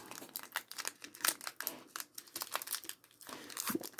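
A Pokémon card booster pack from a Lézargus Pokébox is torn open, a loud, close crinkle and rip of foil wrapping in quick bursts that continue throughout, with no voices.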